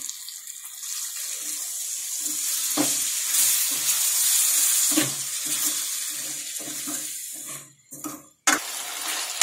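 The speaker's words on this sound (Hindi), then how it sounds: "अब इसके अंदर हम आधा गिलास पानी डाल देंगे" Half a glass of water splashes into frying masala in a hot pan, sizzling loudly and steadily, then the hiss fades and stops near the end.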